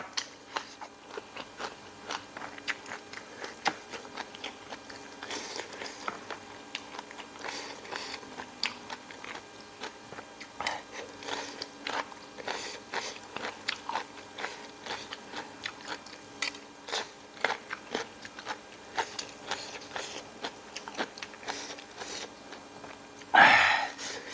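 Crunchy, spicy crispy squid salad with rice noodles is eaten close to the ear, with sharp, irregular bites and crunches spread through a quiet background and a louder crunch near the end.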